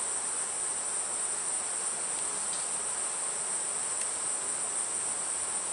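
Honey bees hum in a dense, steady buzz around an open hive frame of nectar, close and constant with no talk over it.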